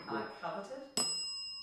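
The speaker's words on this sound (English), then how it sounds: "That seems to have like excited the bell actually." A small bell on a paranormal investigation device gives a single bright ding that rings on with a sustained tone, following brief speech.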